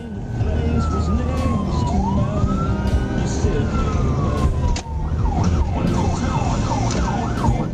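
A police car siren on a highway wails through a long rising and falling sweep, then shifts into a fast yelp cycle. It is heard from inside the vehicle over a steady engine and road drone.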